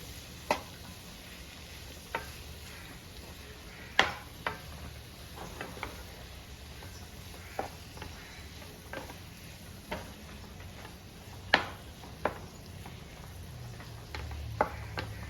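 Salted Kerala-style tomato fry is stirred in a pan, with a quiet low sizzle under scattered, irregular clicks and taps of the spoon against the pan, spaced every second or so, and no voices.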